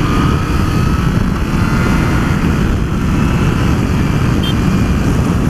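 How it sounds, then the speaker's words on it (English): A Yamaha MT-09 SP motorcycle accelerates hard to overtake on an open road, giving a loud, steady engine roar mixed with heavy wind rush throughout. "Just as I overtook there, the bike just leapt away, and I'm only in standard riding mode here."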